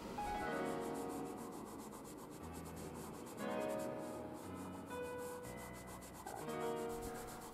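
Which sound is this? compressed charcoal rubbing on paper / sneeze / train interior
compressed charcoal rubbing on paper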